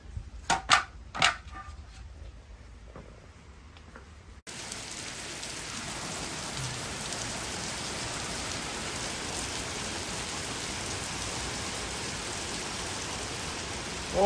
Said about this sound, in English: It's like 81, pouring down rain.